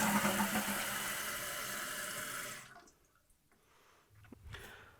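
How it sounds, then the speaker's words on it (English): A running toilet, after a fix to stop it running, flushes with a loud rushing surge of water for a few seconds, then goes quiet as the tank begins refilling with a faint trickle and gurgle. "So now to test it, I'm going to flush it and then see how much it fills up."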